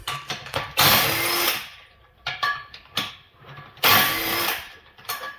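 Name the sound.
impact wrench with 17 socket removing bolts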